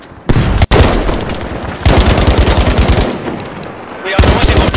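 Heavy machine gun firing in Battlefield 5, rapid loud bursts with sharp rattling reports, a short break and a resumed stream of shots, with faint voices underneath.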